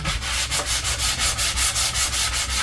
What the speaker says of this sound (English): Then you want to go around and sand this down, sand the edges smooth.